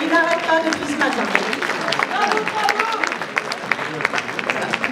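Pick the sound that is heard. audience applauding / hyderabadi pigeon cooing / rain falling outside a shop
audience applauding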